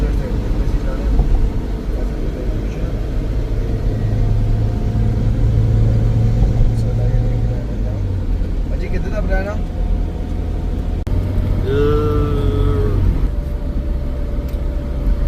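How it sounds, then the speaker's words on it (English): Two-way motorway traffic on the road to Khunjerab, with a continuous close engine rumble and vehicles surging and passing, and a person talking over the drone. "This is motorway, still motorway, but it's two-way traffic, not a one-way."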